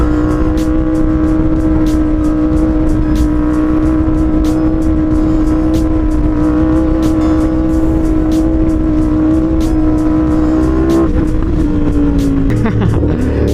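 Car driving along a bumpy road, a steady loud engine drone with the cabin rattling and jolting over the bumps throughout, shifting pitch near the end.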